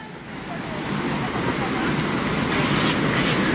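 Strong river current rushing at a mountain river crossing on a trail to Aloha Falls, a loud, steady broadband roar filling the whole clip close by, with no break in the flow.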